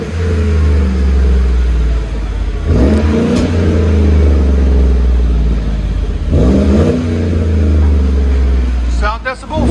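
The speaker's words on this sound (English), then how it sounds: "Chevy Silverado LT Flowmaster Outlaw." A Chevy Silverado LT with a 5.3L V8 and Flowmaster Outlaw exhaust idles loudly, then revs in two sharp blips, with a brief rising whine near the end, recorded up close.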